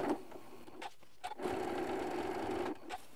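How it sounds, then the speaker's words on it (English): A sewing machine runs in close bursts stitching through three layers of fabric for a Christmas tree decoration, with a steady whirring hum, a short pause, then a longer run. "So I just want to make sure I catch all 3 layers here when I'm stitching."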